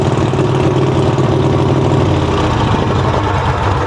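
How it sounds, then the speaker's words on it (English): A mud utility vehicle engine runs steadily at idle as it warms up, its cylinders firing in a loud, continuous low rumble close by with no one talking. "Cylinders are firing because that's getting warm."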